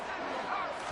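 A home crowd roars in an American football video game between the Los Angeles Chargers and Indianapolis Colts, a dense, loud, sustained stadium cheer filling the whole moment.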